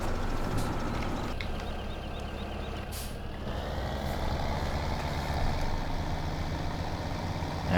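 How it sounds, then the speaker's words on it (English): A tractor in Farming Simulator 2017 hauls a trailer, its engine droning steadily and heavily throughout, with faint clicks and a brief hiss partway through. "It's a good tractor this, and also a very good trailer."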